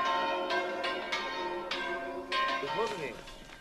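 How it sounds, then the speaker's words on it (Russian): Church bells ring out with a sustained, resonant tone in a Compostela pilgrimage setting, joined by a choir singing over them; the bell strokes keep striking throughout and stay fairly loud and close. "Лишь редкие непосвященные еще не сбежали от гласа хора и звона колоколов."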